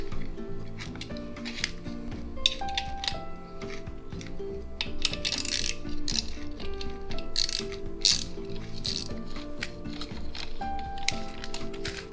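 Repeated ratchet clicks from bolting a removed plate back into place during an auxiliary fuel pump replacement on a VW MK6 TDI, steady close mechanical ratcheting with short pauses and no talk.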